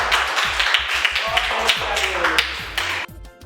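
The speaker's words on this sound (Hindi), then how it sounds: "सब लोग अच्छा अपने लिए ताली बजा दीजिए भाई।" Children in a primary classroom lesson clap for themselves, a quick run of sharp, close hand claps with uneven rhythm that stop abruptly near the end.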